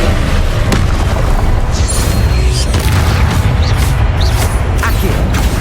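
A Confringo blasting spell going off in Hogwarts Legacy, a loud, dense, continuous roar of explosive booms and crackling bursts that fill the whole stretch with little pause.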